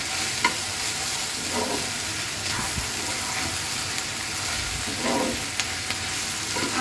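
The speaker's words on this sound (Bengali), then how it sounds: "নেড়ে ফেলে পাঁচ মিনিটের মতো ভাবলেই আমার ঢ্যাঁড়সটা ভাজা কমপ্লিট হয়ে যাবে" Okra frying in a wok-style pan with a little turmeric, stirred by a spatula: a steady broadband sizzle runs throughout, broken by a few scraping strokes against the metal, close and moderately loud with no talking.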